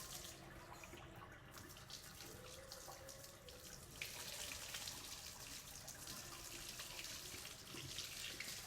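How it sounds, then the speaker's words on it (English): Hot tap water runs steadily over paint brushes being rinsed, a continuous close splashing hiss that grows fuller and louder partway through, with no voices. "I'm gonna take any paint brushes I used and I'm gonna rinse them under the water"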